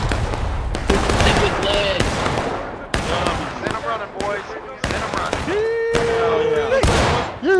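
Crackling musket volleys and scattered rifle shots from a multiplayer Civil War battle game reenacting Pickett's Charge, repeated sharp bursts under excited shouting voices over the game's battle din.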